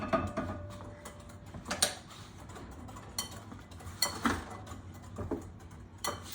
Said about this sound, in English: We're gonna stir our milk here.